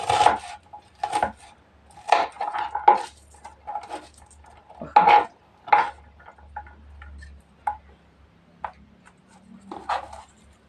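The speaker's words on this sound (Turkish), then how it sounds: "soğanım var. Bunu da şöyle fazla büyük olmayacak şekilde doğruyorum." Half an onion chopped with a knife on a board, a series of crisp, uneven thuds and taps, some in quick bursts and some spaced out, close and fairly quiet.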